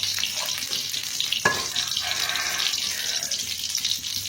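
Mustard seeds splutter in hot oil, a hissing, crackling wash with a sharp pop near the middle, fairly close and steady, no talk.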